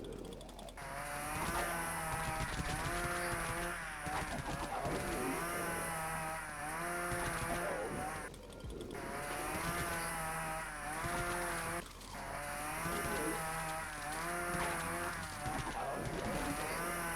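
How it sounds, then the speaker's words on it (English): A chainsaw weapon in the zombie survival game Dead Frontier gives a loud, continuous grinding buzz. It runs throughout, layered with steady game music and effects, with short dips in intensity. "chainsaw's a great grinding weapon"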